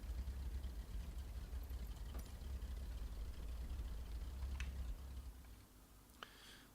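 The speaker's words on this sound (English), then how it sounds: "The engines just sound a bit like a Harley Davidson." Twin engines of a Cessna 414 in Microsoft Flight Simulator, a steady low droning rumble held throughout with a few faint ticks near the end.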